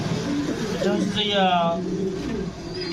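Racer, fancy and giribaz pigeons at a farm give a soft throaty coo midway through, a short run of rolling notes over steady background chatter and rustling.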